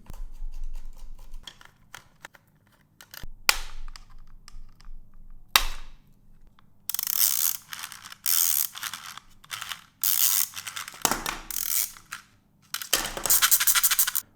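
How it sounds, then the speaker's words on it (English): Screws are being undone on a Kiwi Design battery strap, with close ratcheting clicks and small mechanical rattles coming in irregular bursts between quiet gaps. "Let's go ahead and start unscrewing it."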